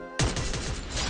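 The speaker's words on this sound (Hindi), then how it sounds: "लीजा ने मेरे को चैलेंज दिया जो गन है G36 से मेरे को चार बंदे को हेडशॉट मारना है।" A sudden loud burst of G36 assault rifle fire in a mobile shooter game, a quick run of close rattling shots that starts abruptly and carries on for about a second.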